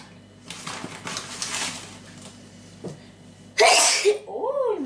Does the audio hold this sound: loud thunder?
no